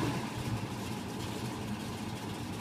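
Steady low engine idle from a Comp 68 SS car, running smoothly and evenly at close range with a constant rumble and no talking.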